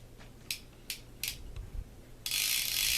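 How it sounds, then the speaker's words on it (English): A Penn Peerless #9 fishing reel with two broken drag washers, its drag being loosened: three sharp ratcheting clicks, then a continuous loud rasping whir as line pulls off. "Drag's working, even though we've got 2 broken drag washers."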